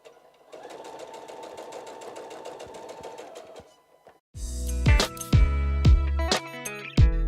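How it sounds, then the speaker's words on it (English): Sewing machine running steadily as it stitches fabric around a circle for a stocking, a continuous even buzz for about three seconds, followed by louder clattering and thumping handling sounds. "I'm going to sew on the inside of this circle because I want to still be able to see that seam allowance"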